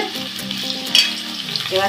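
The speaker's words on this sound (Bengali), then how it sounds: "আমি আলুটা ভেজে নেব" Diced potatoes frying in hot oil in a wok with a little salt, a steady close sizzle with occasional stirring scrapes, loud and alone without any talk.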